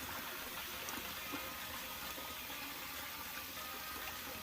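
Tap water runs steadily into a kitchen sink over boiled saltfish being cooled for ackee and saltfish, a soft continuous splashing hiss at low level without any talk.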